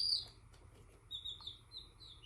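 Mail-ordered baby chicks give faint, high-pitched peeps, a few short chirps scattered over a quiet, low background hum.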